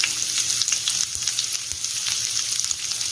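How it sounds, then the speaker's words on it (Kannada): Thinly sliced cabbage stir-fries on a hot tawa for Bombay-style tawa rice, a continuous loud sizzle with light stirring clatter and no talking. "ಈಗ ಉದ್ದಗೆ ಹಾಗೂ ತೆಳ್ಳಗೆ ಕಟ್ ಮಾಡ್ಕೊಳ್ಳೋಂಥ ಕ್ಯಾಬೇಜ್ ಹಾಕ್ತಾ ಇದ್ದೀನಿ"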